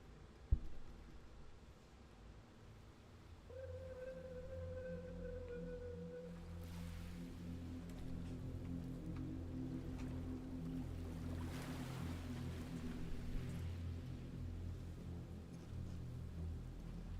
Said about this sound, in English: I can hear the sound of water from below.